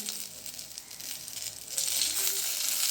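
Onions and garlic sizzle and crackle in hot oil, a steady hiss that grows louder partway through, with no voices.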